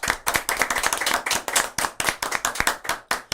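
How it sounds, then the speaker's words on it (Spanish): A small group claps in quick, uneven bursts, loud and close, a short round of applause for people on screen at an evangelical gathering. "con un aplauso fuerte aplaudimos a todos los que están ahí en pantalla"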